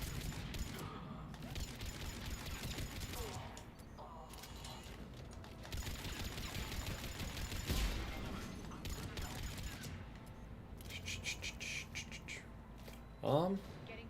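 Bursts of gunfire from a gun in the video game Mass Effect crackle through busy, loud game noise, with rapid clattering shots and mechanical sounds, under ongoing talk.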